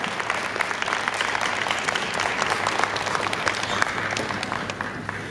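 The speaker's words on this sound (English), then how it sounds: "Can you all join me by clapping and thanking our panelists for this first panel discussion?" An audience claps steadily for panelists after a panel discussion at a community MLK Day celebration, the dense applause sustained and even throughout with no voices over it.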